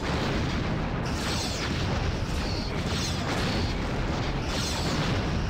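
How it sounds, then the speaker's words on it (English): In a Star Trek ship battle video game, a starship fires its torpedoes, producing a continuous loud roar of booming, rumbling launches with a few brighter bursts layered on top. "as you can see, we can fire quite a few torpedoes"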